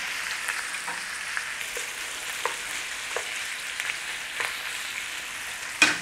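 Chicken pieces seasoned with garam masala sizzle and crackle steadily in a hot pan, a close, continuous fry with small pops scattered throughout and a sharper clatter near the end.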